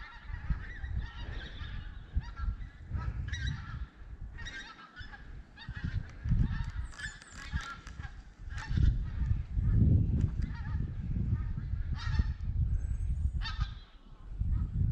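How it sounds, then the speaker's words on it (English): Geese honk repeatedly as they fly over a pond, the calls overlapping in a busy, loud chorus with ongoing rumbling background noise throughout. "You hear the geese?"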